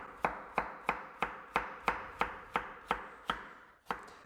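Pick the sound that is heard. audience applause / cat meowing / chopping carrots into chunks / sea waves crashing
chopping carrots into chunks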